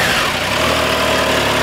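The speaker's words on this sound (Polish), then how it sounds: "No i teraz załączmy ten motocykl. Żeby go odpalić, musimy nacisnąć sprzęgło" A 2022 Triumph Tiger Sport 660 motorcycle engine running close by, a steady loud mechanical idle with a low throbbing pulse and no voices.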